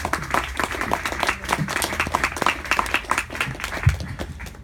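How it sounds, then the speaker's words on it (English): An audience at a literary reading gives a round of applause, steady dense clapping throughout with a few louder individual claps near the end. "Let's give her a round of applause."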